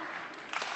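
Short burst of group clapping by choir members at a chorus rehearsal, a brief spatter of many hands at moderate, somewhat distant level.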